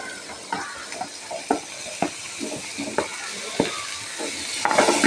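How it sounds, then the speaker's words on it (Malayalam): Potatoes and green chillies fry with softened onions in a pan, a steady sizzle broken by regular scraping stirs of a spoon against the pan, close and clear. "ഉള്ളി ചെറുതായിട്ടൊന്ന് വാടിയിട്ട് നമുക്ക് കിഴങ്ങും പച്ചമുളകും ഇട്ട് കൊടുക്കാം."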